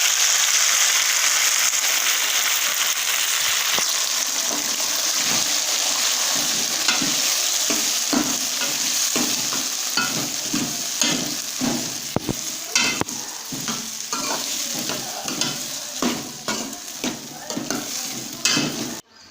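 Tomatoes go into onions already browned and frying in a karahi for chicken karahi. A continuous loud sizzle runs under a dense series of scraping and stirring clicks that grow more distinct toward the end. No one speaks.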